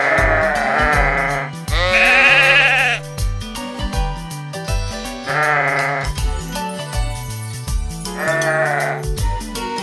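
Sheep bleat loudly and close in a toy farm scene, several wavering, drawn-out cries following one another over a backdrop of steady tonal sound, with no talking.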